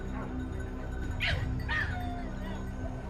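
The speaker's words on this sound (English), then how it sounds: "The barking grew louder." Hunting dogs in mountain brush closing on a wild boar: two short, high yelping barks in the middle, fairly faint over a steady low background hum.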